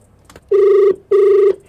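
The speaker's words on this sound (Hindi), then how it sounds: "फोन मिलाओ, मुर्गा बनाओ।" Two loud, even telephone ringback tones sound close up while a prank call is being dialed, each about half a second long with a brief pause between them.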